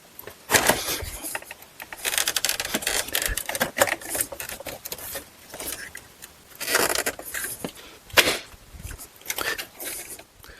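Plastic grille clips on a Chrysler Town & Country front bumper snap into place in a series of sharp clicks and clatters, separated by quieter handling and rustling noises.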